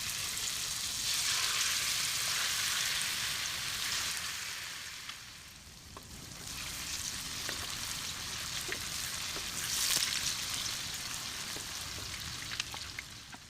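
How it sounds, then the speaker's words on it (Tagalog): Steady hiss and crackle of food frying in hot oil, likely tofu for a Filipino bean sprout stir-fry, with occasional small pops, fairly quiet and continuous. "Kaya habang nagpiprito tayo"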